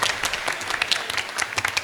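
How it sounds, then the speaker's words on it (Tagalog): Loud, dense applause from a congregation at a Holy Mass, honoring the director, Father Tonton. It rolls on steadily with no pause from start to finish. "Mas malakas pa na palakpak para sa ating Direktor,"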